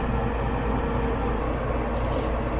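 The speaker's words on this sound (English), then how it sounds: "I'm in my bathroom right now, which is why you hear that fan" A constant, loud low-pitched whir of a bathroom exhaust fan fills the room, steady and unbroken throughout with no voices.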